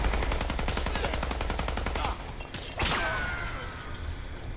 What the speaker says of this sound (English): That ricochet